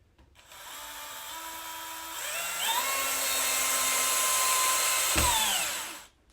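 A power screwdriver spins up and drives a screw into a molly set in an aluminum rod for a chick brooder frame, a whining motor that rises in pitch, holds, then stops.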